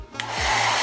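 A handheld hair dryer blows at close range while drying long hair, a loud steady whoosh that rises and stays constant through the brief moment.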